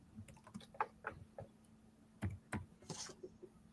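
A computer keyboard is typed on in quick irregular keystrokes at close range, with a few louder taps and a brief rustle toward the end, no speech.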